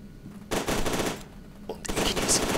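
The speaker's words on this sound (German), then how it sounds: "irgendwie sind die Schüsse von den Gegnern viel zu leislich" Enemy machine-gun fire in the shooter video game F.E.A.R. 2, two bursts of rapid automatic shots, loud and sharp, separated by a brief lull.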